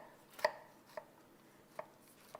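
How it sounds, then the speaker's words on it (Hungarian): A knife cuts through the crisp crust of a deep dish cinnamon apple pie, giving four separate crunchy cracks spaced about half a second apart, the first loudest, over a faint background hiss. "Halljátok, milyen ropogós a tészta."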